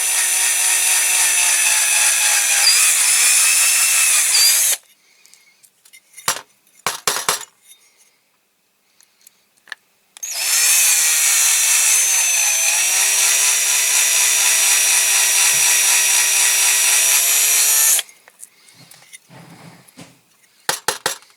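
A power drill bores out a hole in an old Dinky Toys RAF Pressure Refueller (No.642) die-cast model, with two long, loud, steady whining bursts separated by short knocks and tapping.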